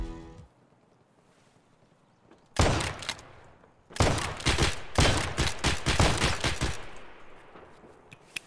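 Gunfire from a pump-action shotgun in the Escape From Tarkov video game: a loud blast, then a dense rapid burst of many booming shots close by, alone without talk.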